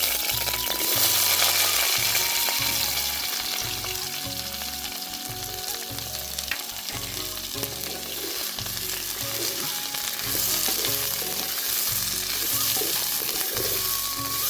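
Vegetables fry in hot oil in a wok for a Bengali vegetable dal and fried eggplant meal, a loud, steady sizzle running throughout, with occasional scrapes and clicks of stirring.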